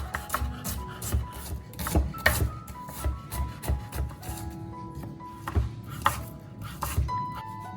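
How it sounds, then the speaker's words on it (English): A knife chops onions on a board in a home kitchen, with irregular knocks of blade on wood in a loose rhythm, close and moderately quiet, no voices over it. "Chop 2 medium-sized onions."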